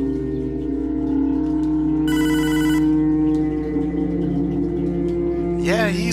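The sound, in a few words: telephone ringing in video game Hotline Miami 2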